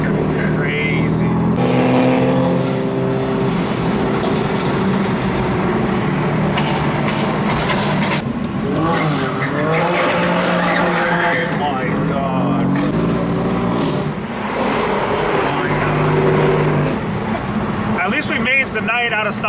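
BMW M cars driving and revving at night in an empty parking lot, several engines rising and falling in bursts, heard close and loud with people talking over them.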